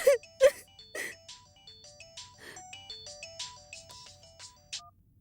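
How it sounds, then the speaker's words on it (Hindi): A telephone rings on and off without being answered, a bright electronic ringtone melody of short repeated notes at moderate level, with no talk over it. "जानकी फोन नहीं उठा रही है"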